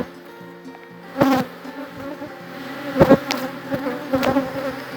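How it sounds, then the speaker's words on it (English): Agitated honeybees buzz around a hive while keepers tend a pair of queens, a steady insect drone with louder swells as bees fly close past. "So the bees aren't too happy today."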